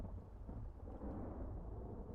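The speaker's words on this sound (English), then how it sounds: "Look at the rain coming down up there." Steady rain pours down in a video game, a dense, even hiss with a low rumble beneath, unbroken and fairly soft, with no voices over it.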